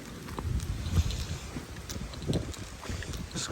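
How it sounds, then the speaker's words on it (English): Wind gusting beside an estuary at a small railway station in Devon, a steady low rumble of buffeting across the whole stretch with several stronger gusts, no voices. "being right next to the estuary, it's quite windy here."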